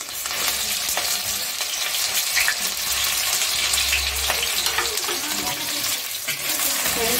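Onions sautéing in oil make a steady, close sizzle with a faint watery crackle, continuous throughout and without clear speech.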